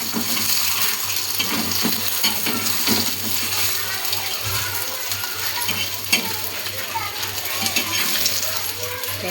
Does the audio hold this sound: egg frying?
yes